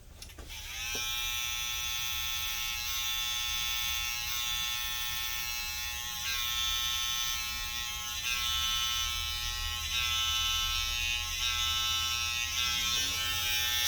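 Electric hair clippers buzz steadily while cutting a lining taper, a close, constant high-pitched hum that runs for the whole stretch with slight variations as the blade drops in and rotates.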